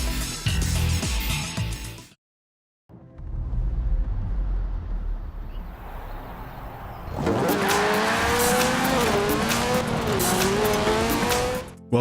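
Cars race in Forza Horizon 4, with a loud engine roar and squealing, skidding tires. The sound breaks off briefly, then returns with a rising, wavering engine note that runs steadily to the end, with no voices.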